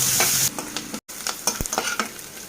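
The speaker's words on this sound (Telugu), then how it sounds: "ఈ ఆనియన్స్ గోల్డెన్ బ్రౌన్ వచ్చేంత వరకు వేయించుకుందాం" Sliced onions with whole garam masala and a bay leaf frying in oil until golden brown, a steady close sizzle broken by stirring scrapes and a brief pause.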